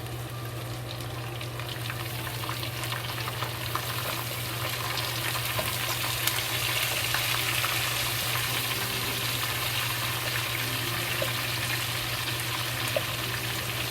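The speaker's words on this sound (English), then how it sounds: "They add the drained water potato into the pot." Thinly sliced potatoes sizzle and crackle steadily in a hot pot, a dense, continuous frying hiss close by with no talking.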